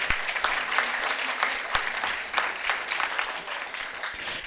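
Audience at an award ceremony honouring Swagatalakshmi Dasgupta clapping as she receives a shawl on stage, with sustained, dense applause and a few sharper nearby claps standing out, continuing steadily for several seconds.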